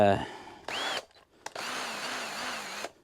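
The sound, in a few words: power drill in low gear boring wood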